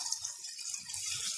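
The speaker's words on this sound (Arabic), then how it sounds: "هنضيف دلوقتي المية بتاعت" Water is poured into a pot holding a fried mixture of rice and small chopped onion, giving a steady soft gushing splash for about a second and a half, close by and fairly quiet.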